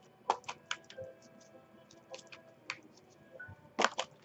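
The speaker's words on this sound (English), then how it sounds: "These shuffles can take a while." A deck of tarot cards is shuffled by hand, giving soft irregular riffling clicks and slaps in quiet bursts, close and faint, with a couple of sharper flurries near the end.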